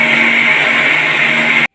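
A mixer grinder whirs loudly and steadily, blending green mango, coconut and cumin into a paste, then cuts off abruptly near the end.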